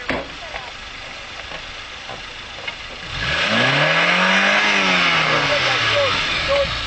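A 4x4 off-road car at an off-road rally struggles to reverse, its engine idling before surging into a loud, rising rev that holds and wavers. Voices are heard nearby.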